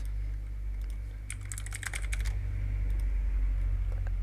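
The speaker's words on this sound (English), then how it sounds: "Then type here Windows Update Settings" Typing on a computer keyboard, a quick close burst of key clicks in the middle over a steady low electrical hum, with a few scattered taps before and after.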